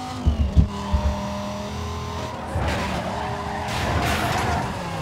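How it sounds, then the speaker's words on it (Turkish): An Aston Martin DB9 in the racing game Need for Speed Most Wanted skids with a sustained tire squeal over engine noise, after a few short thumps at the start. "Benim araba niye çok kaydırıyor ya?"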